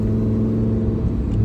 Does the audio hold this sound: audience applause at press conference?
no